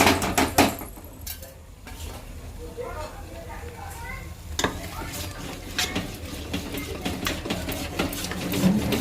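Vermicelli dry-roasting in a pan on a home stove, stirred with a utensil, giving scattered scraping and light clinking taps against the metal, moderately close, with a voice talking over it.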